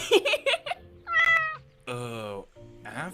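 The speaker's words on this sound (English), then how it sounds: "It meows for cake. Shh, listen. It sounds like a cat." In a Minecraft roleplay game, a cat meows in several separate, clear cries, short and then drawn out, alternating with brief bursts of other game sounds in an otherwise quiet space.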